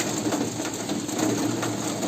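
Steady, dense hiss of heavy rain pouring down without a break, fairly loud and constant throughout.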